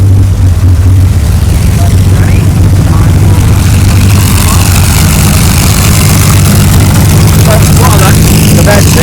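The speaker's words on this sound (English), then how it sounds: "those engines we can hear behind us are Rolls-Royce Griffins out of a Shackleton bomber" Two Rolls-Royce Griffon aircraft engines from a Shackleton bomber, mounted side by side on the Snoopy 3 pulling tractor, give a loud, steady, deep droning roar that carries on without a break.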